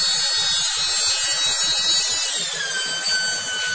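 The blower of a solar-powered air cooler runs continuously, giving a loud, high-pitched motor whine with a steady airy hiss and a slight drop in pitch near the end.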